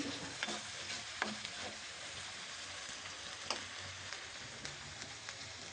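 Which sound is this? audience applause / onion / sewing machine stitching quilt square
onion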